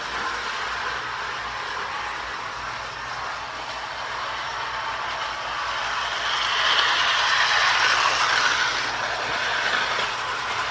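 A Marx Daisy and Donald tin handcar toy running on its track with freshly replaced motor brushes, giving a steady whirring, rattling clatter close by that swells louder toward the end.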